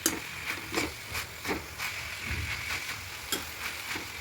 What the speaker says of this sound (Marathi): छान मस्त तेलामध्ये परतून घ्यायची भाजी